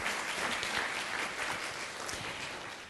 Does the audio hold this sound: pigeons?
no